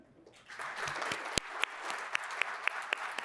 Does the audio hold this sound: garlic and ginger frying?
no